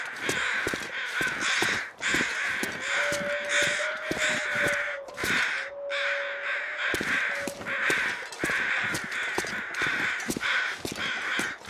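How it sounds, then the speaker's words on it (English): Several crows caw repeatedly in a wild outdoor setting, harsh loud calls coming in irregular bursts and overlapping one another close by, with a thin tonal whistle drifting beneath them and no speech. "I hear crows."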